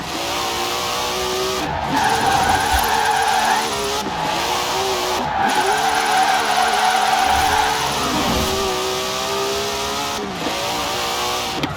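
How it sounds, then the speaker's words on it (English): Tyres skid and squeal steadily as a car drifts in Forza Horizon 4, loud engine revving climbing in repeated surges with brief gear-shift dips, nearly continuous for the whole stretch. "Now let's really shred those tyres."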